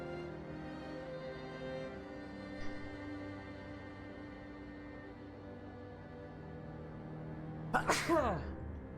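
A single sharp sneeze bursts out close to the microphone near the end, over a steady bed of droning game music.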